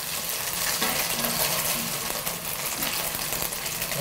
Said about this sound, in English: Doing the steam, stir frying, hata imeanza kuchange color vizuri tena sana.